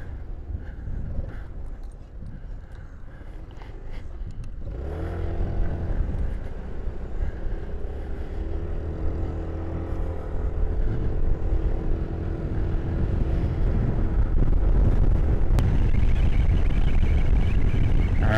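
A Venom KPV150 motorcycle with new brakes being ridden through nature and up hills: quieter rumbling and handling noise at first, then the engine note swells into a steady, droning ride with rising wind roar.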